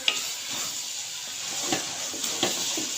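Beef keema with potatoes and capsicum fries on medium heat in a pan, giving a soft, even sizzle with occasional stirring scrapes, fairly quiet and close.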